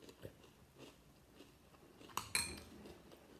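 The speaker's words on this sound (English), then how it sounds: "I just thought I'd record a bit of me eating, so you know, I'm definitely eating cereal." Metal spoon clinking against a cereal bowl while someone eats, with two sharp clinks close together after soft scraping and chewing sounds, all close and fairly quiet.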